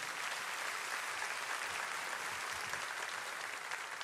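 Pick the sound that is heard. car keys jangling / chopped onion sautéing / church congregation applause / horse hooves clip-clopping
church congregation applause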